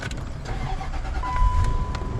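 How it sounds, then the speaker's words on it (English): A 2004 Range Rover engine cranks and starts, a moderate low rumble that builds and settles toward idle, with a faint electronic whine running through. "Now this car is starting."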